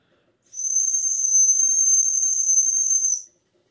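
A 3D printed whistle is blown in one steady, shrill, breathy note lasting nearly three seconds, loud and close, with silence before and after.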